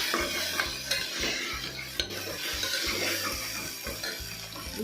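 Lima beans fry in a pan for a Karnataka-style rice bath, giving a steady close sizzle under occasional clinks and scrapes of a metal utensil against the pan, with no talking.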